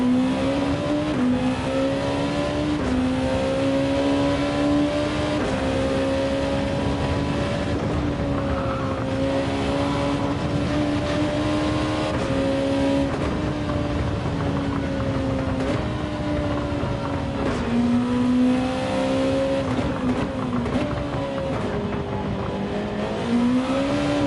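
Gran Turismo 7 Group 2 race cars at Fuji roar continuously in a sustained, loud engine drone whose pitch rises and dips through gear changes and corners, with no voices.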